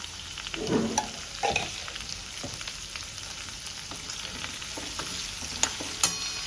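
Gunda sambharo, a Gujarati pickle, frying uncovered in a pan over medium-high flame: steady close sizzle with a few louder stirring scrapes and clicks, no voices.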